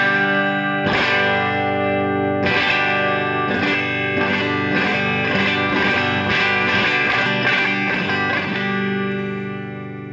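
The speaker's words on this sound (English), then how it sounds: "this is like the bridge pickup sounds here with treble full up" A vintage 1958 Gibson ES-335 electric guitar on its bridge pickup with treble turned fully up rings out a bright, sustained chord, followed by a rapid run of loud picked notes that keep sustaining, with no talking.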